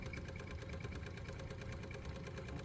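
Wilesco D430 Lokomobile model steam engine running quietly, a soft, rapid, even chuff-and-tick rhythm that stays steady and low in level without pause.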